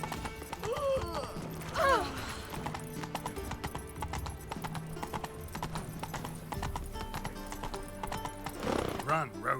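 Roach the horse galloping in The Witcher 3, a steady rapid run of hoofbeats with a couple of whinnies, heard under ongoing character dialogue.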